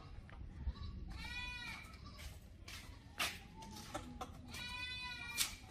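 A goat bleats repeatedly at an African village farm at night, with several wavering calls at moderate distance over low background noise.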